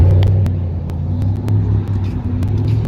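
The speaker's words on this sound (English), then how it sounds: "That guy's truck sounds pretty cool" Truck engine idling and revving on a city street, a loud continuous low rumble with slight surges in throttle, close by and steady throughout.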